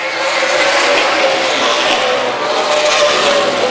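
Race cars roar through turns one and two at Dixie Motor Speedway during the Main Event Racing Series Draper 100, a loud, continuous engine howl with a hint of tire scrub, heard close and unbroken.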